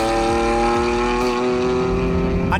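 A 1990s Lamborghini Diablo SV drives with a steady, loud engine drone rich in tones, heard close and alone for a few seconds.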